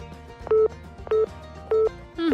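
Three identical ringback tones sound over a phone line while a call is being placed, each a loud, steady two-pitch burst about half a second long, evenly spaced, with a fourth tone starting right at the end.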